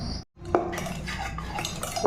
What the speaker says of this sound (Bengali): দেখো আমি এভাবে ফেটে নিচ্ছি,